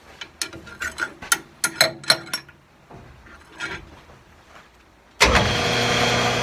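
A Powermatic 90 wood lathe under repair clatters with a series of ratcheting mechanical clicks, then its motor switches on abruptly into a loud, steady whir as it picks up speed.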